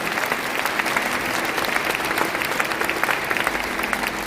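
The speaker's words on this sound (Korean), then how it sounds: "큰 박수로 축하해 주시기 바랍니다." Large congregation applauding at a Korean church pastoral ordination ceremony, a dense, steady wash of clapping that stays loud and even throughout with no voices over it.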